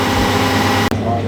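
A farm machine's engine idles while warming up, a loud, steady, close drone that dips briefly once before carrying on.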